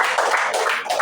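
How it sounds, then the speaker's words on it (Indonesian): An indoor audience at a lively product presentation bursts into a dense round of clapping, loud and close, with hands pattering steadily through the whole burst. "Tepuk tangan dulu Bapak dan Ibu."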